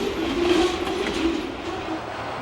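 Pan Am freight train locomotives on a rail line in Maine, a steady loud rumble of engines and rolling wagons with a faint tonal whine, continuous throughout.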